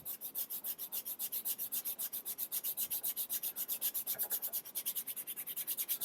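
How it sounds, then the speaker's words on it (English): A nail file rasped back and forth along a leather edge for a passport holder, with quick, even, rhythmic strokes repeating steadily at close range and no talking. "So I'm going to use the nail filer first."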